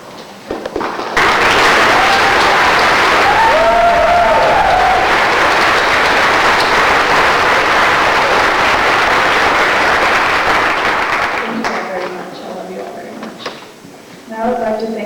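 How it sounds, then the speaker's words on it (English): Applause for standing staff and teachers fills a 1999 high school graduation hall, a loud sustained crowd clapping that runs about ten seconds before tapering off, with voices following at the end. "I would like all of the staff and teachers to stand for a round of applause"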